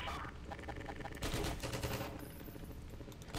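Rapid gunfire rattles in Half-Life 2: Episode One, dense bursts of shots packed together over a few seconds, loud and continuous against background game sound.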